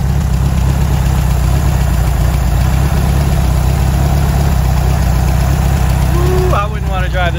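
A 1969 Barris Mini T engine idles loud and steady on old fuel with crusty fuel lines, a continuous heavy rumble filling the whole stretch, with a brief rising whine near the end.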